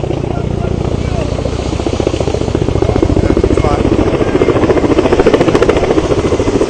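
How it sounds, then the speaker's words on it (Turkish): A helicopter dropping water on a fire thumps loudly and rhythmically nearby, with people talking over it. "Helikopter geldi su sıkıyor ama."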